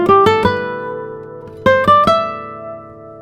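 A guitar with Mutant series strings, played dry with no reverb, gives two quick bursts of plucked notes. Each burst rings bright and close, then decays smoothly.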